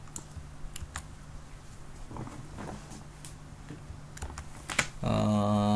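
Sharp computer keyboard clicks and a keystroke shortcut press, scattered irregularly and close, with a steady low hum underneath and a sustained tonal sound rising at the end.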